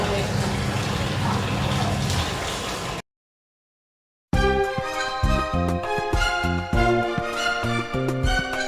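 Water gushes from a tap in a steady, loud rush for about three seconds, then cuts off abruptly. After a short silence, unrelated tonal background sounds take over.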